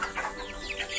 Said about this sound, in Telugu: ఇవన్నీ మా కోళ్ళు.